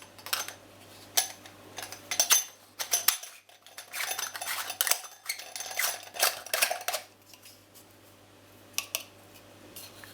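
Metal and plastic parts of a screw-type churro maker clink and clatter as the nozzle is fitted and pushed into place, in a string of short irregular knocks and scrapes with a low steady hum beneath.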